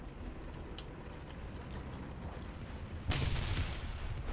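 A War Thunder arcade battle gives a sudden loud explosion that cuts through a constant roar of engine and battle noise and leaves a lingering rumbling tail.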